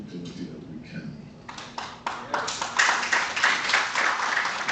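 Audience applause at a book launch, starting as a few scattered claps beneath a speaking voice and swelling into steady, dense clapping from the room.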